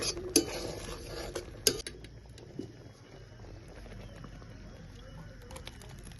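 Metal spoon clacks and scrapes against a pan while a Bengali-style bain fish curry with coconut milk, garam masala and slit green chillies is stirred, two sharp knocks early, then quieter bubbling and stirring.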